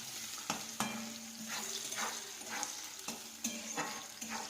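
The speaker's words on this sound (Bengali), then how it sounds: "চারটে রসুন, দিয়ে একটু লাল লাল করে ভেজে নিয়ে তুলে নিতে হবে" Garlic fries in oil in a pan with a quiet, continuous sizzle, broken by several sharp spatula clinks and stirring scrapes at irregular intervals.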